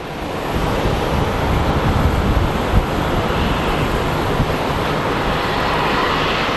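A UPS Boeing 757 cargo jet at Phoenix Sky Harbor International Airport gives a loud, steady engine roar that holds evenly throughout, a broad continuous rumble with no voices heard.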